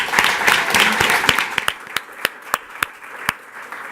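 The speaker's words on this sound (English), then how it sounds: "just one more round of applause for our incredible panel" A film festival audience applauds the panel, dense clapping that thins out into a few scattered, separate claps toward the end.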